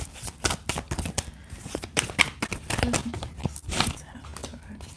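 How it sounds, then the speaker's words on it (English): Tarot cards being shuffled by hand during a live reading, a run of dense crisp riffling and shuffling bursts at close range, with faint voice and background sound underneath. "Give it a good shuffle."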